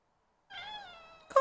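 A pet cat gives one drawn-out, clear meow up close, followed by a sharp louder yowl at the end, with no talking.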